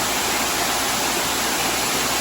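Princess Falls, a waterfall in Daniel Boone National Forest, roars as a steady, dense rush of falling water that completely fills the air without letup.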